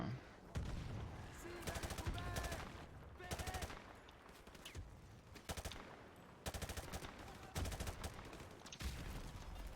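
Bursts of rapid automatic gunfire in the Call of Duty Modern Warfare Remastered campaign, loud clattering volleys separated by brief pauses, with a voice talking in between.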